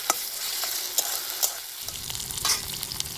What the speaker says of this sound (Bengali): মশলাটা তো করেছি আদা লঙ্কা আর জিরা আর যেন কি রসুন রসুন দিয়ে দিলাম মশলাটা একটু কষিয়ে নেবো